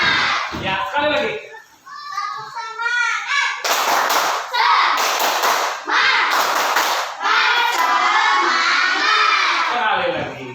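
A roomful of children repeat their rhythmic spirit clap, loud bursts of clapping mixed with shouting and chanting voices, starting with a few spoken calls before the group erupts into sustained noisy cheering.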